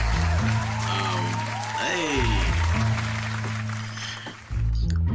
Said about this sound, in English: Please, ladies and gentlemen, give a round of applause to our friend, Kenny Smith.